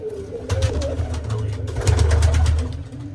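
Pigeons coo in low, throaty, rolling calls that repeat through the clip, close by, with the sound rising and falling in rhythm and no talking.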